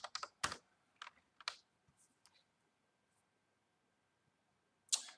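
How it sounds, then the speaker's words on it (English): Someone types on a computer keyboard to enter a search term, a quick burst of close, crisp key clicks followed by a few scattered taps and a pause, then a final cluster of keystrokes. "I'm going to get my search bar here, and I'm going to type in define"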